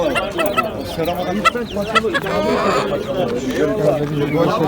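Chickens and chicks cluck and cheep at a busy poultry market, with repeated close calls over steady crowd chatter and people talking nearby.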